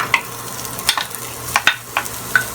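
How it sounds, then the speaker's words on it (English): Onion stir-fries in a tablespoon of oil in a hot wok, a constant sizzle close by with repeated clinks and scrapes of stirring. "So I'm heating up here my wok, and I put in about a tablespoon of oil."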